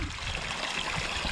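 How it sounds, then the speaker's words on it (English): Water from an Evolution Aqua-fed garden water feature splashes steadily over a log into a small stream, a continuous close rushing and trickling with no voices. "It then discharges over the top of this log, and there's plenty of splashing and noise"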